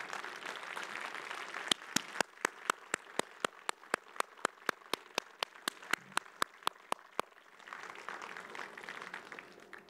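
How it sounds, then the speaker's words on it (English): Graduates at a 2021 South Dakota State University commencement ceremony applaud parents, friends and loved ones: a diffuse crowd patter through the clip, punctuated by a long run of sharp, evenly spaced clicks in the middle, fairly faint and distant. "thank your parents, friends, and loved ones for their support with a round of applause"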